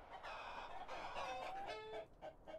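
Chickens cluck and squawk in a video game battle simulator where a flock charges an elephant, several overlapping calls sounding faint and busy without speech.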